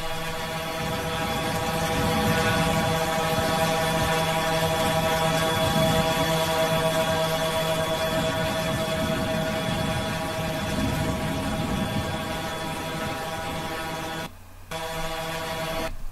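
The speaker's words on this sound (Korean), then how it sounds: "거대한 드론이 사람을 실어서 나를 수 있을 정도의 힘을 자랑하는 모습을 보고 계십니다." A large passenger-carrying drone flies with a steady, droning, mosquito-like buzz full of sustained tonal whine, loud and continuous throughout, with a brief dip near the end.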